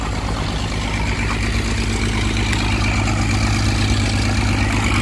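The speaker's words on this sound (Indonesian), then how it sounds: "sama mesin air, mesin penyedot air tuh di sana tuh." A water pump engine runs near a rocky river, giving a steady, loud mechanical drone with a low rumbling hum that holds constant throughout, with no voices.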